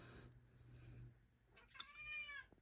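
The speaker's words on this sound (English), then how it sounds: "That's my cat. Meow." A single drawn-out cat meow rises and falls near the end, fairly quiet, after a stretch of faint background noise.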